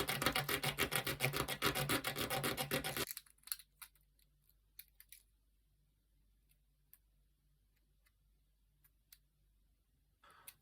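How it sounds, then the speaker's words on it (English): Sandpaper rubbing over a pen-built model missile, a Warhammer 40K hunter-killer proxy: about three seconds of steady, close rasping strokes, then near silence broken by faint scattered ticks and taps. "we're going to take our sandpaper"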